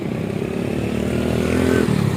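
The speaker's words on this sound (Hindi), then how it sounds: "बाइक आ रही है।" A motorcycle rides through a busy Karachi market street, its engine droning loud and close and growing slightly louder as it passes. Background bustle sits underneath.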